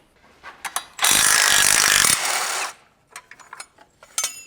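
Flywheel coming off a BMW E39 530i Touring transmission: a sudden loud burst of grinding, ratcheting metal that lasts about a second and a half and fades away, followed by scattered clinks and light knocks.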